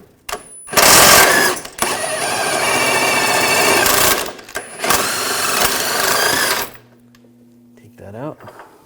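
An 18mm socket and wrench work a bolt loose beside the transmission pan of a 2007-2013 BMW X5, producing two long, loud, steady whirring-rattling runs separated by a brief pause, ending in softer clicks.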